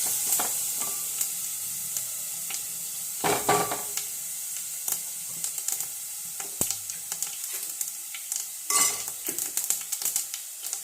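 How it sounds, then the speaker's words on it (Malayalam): Mustard seeds frying in hot oil in a pan on a kitchen stove, a close steady sizzle broken by sharp crackles and pops, with occasional clinks of a stirring utensil against the pan. "ഈ അടുപ്പത്തെ കടുക് വറുക്ക"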